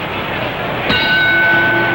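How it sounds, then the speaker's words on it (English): A boxing ring bell rings once to open round one of the 1951 Rocky Marciano vs Joe Louis heavyweight bout, a single struck clang with a ringing tail over a steady roar of arena crowd noise. "Joe Louis, balding and bulky, eagerly answers the bell."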